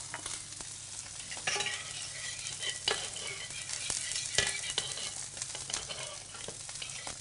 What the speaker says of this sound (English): Now the venison cooks very easily, just a nice seal on both sides